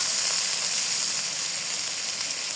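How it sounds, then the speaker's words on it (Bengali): Spice paste of turmeric, chili and salt fries in a pan, a steady loud sizzling hiss with no pauses. "এখন মশলাটা ভালোভাবে কষিয়ে নেবো"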